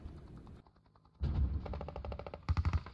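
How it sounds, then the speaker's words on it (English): Gunfire in the video game Hand Simulator, heard in the distance as ambient noise: a low hum, then a sustained clattering rumble of shots from about midway, ending in a cluster of sharper bursts, with no voices. "Someone shooting then. Someone in the distance. It was ambient noise, my friend."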